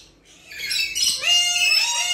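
A nuri (lory) parrot calling close by in a string of shrill, piercing squawks and whistles that rise in loudness, with no talk over them.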